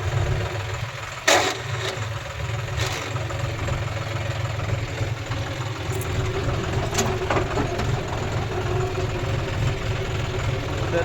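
A tractor engine running near a JCB, a steady low rumbling idle that continues throughout, with a sharp knock near the start and a few brief clanks over the drone.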